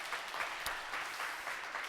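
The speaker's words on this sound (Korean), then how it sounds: "우선 우리를 충성되이 여겨 주님의 직분을 맡겨주신 하나님께 영광의 박수를 함께 올려드리도록 하겠습니다" A church congregation claps together during an afternoon worship service, a brief burst of dense, steady applause from a room full of people at moderate distance.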